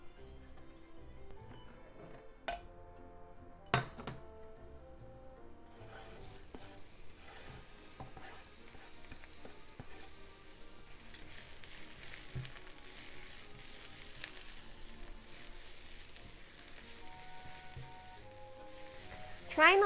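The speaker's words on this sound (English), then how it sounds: "Heat up half a tablespoon of vegetable oil in the frying pan. And let's cook them until bell pepper is wilted." Bell pepper and chikuwa fishcake stir-frying in vegetable oil in a frying pan, a soft steady sizzle with occasional ticks and clinks of stirring, quiet and continuous throughout.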